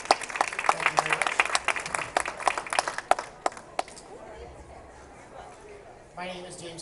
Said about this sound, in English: So a huge round of applause for James, please.